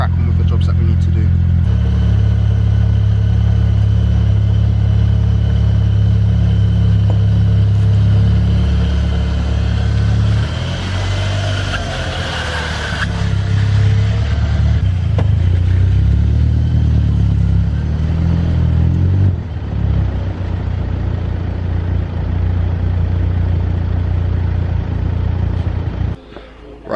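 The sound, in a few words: GTI turbo car engine running while car is moved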